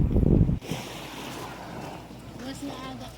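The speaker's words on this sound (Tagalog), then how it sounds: "dito ang sarap pakinggan ng alon ng dagat as in" Sea waves washing onto the shore at Cabacungan, Allen, Northern Samar, a steady broadband surf wash with wind buffeting the microphone in a loud burst at the start and a voice talking faintly underneath.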